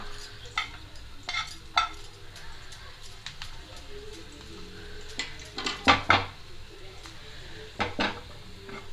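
Spices for sarson, palak and bathua saag crackle and sizzle as a tempering in a hot pan, with sharp popping bursts and a spoon clinking and stirring against the pan, all fairly soft.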